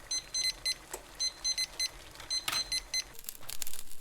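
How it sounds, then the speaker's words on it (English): A ThermoPro TP27 wireless thermometer sounds its low temperature alarm as a rapid, high-pitched electronic beeping in repeated short bursts. Rustling handling noise follows at the end. "it's immediately going off. The alarm is."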